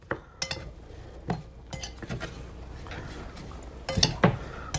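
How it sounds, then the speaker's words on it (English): A spoon stirs sugar into a bruschetta mixture in a bowl, giving intermittent clinks and scrapes of utensil against dish at close range, with quiet pauses between the strokes. "go ahead and just stir it all around"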